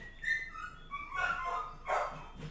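A dog barks in a short burst of sharp yips and barks, moderately near, with no talk over it, during a Pokémon card box-opening session.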